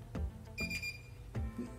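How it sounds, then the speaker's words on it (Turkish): A key copying machine gives a few short electronic beeps in quick succession while registering a key, fairly quiet, with no voices. "İki bip sesini duyduktan sonra tanıştırma işlemimiz tamamdır"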